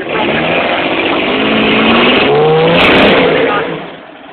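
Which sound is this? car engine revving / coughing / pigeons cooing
car engine revving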